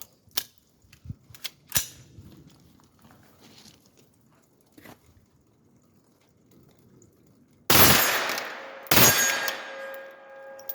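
A rifle bump-fired with a match grade trigger: a few scattered sharp cracks and metallic clicks, then a loud rapid burst of full-auto gunfire near the end, close by.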